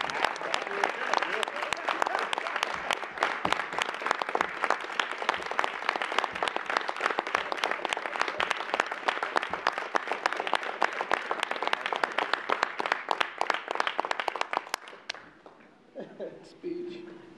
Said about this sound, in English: I'd ask all to please stand and applause Dr. Lockard for his work.